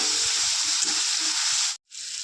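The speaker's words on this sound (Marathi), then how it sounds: "कढईमध्ये तेल गरम करून त्याच्यामध्ये थोडंसं लसूण जिरे मोहरी टाकून घेतली आणि एक कांदा आणि एक टमाटा घ्यायचा आहे" Onion and tomato with garlic, cumin and mustard seeds sizzle steadily in hot oil in a kadhai, close and even, with a brief cut to silence near the end before the hiss resumes.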